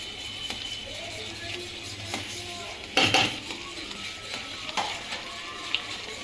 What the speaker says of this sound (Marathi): नंतर आपण तो रवा भाजलेला तो आपण त्यात मिक्स करायचा, चांगला मिक्स करून घ्यायचा।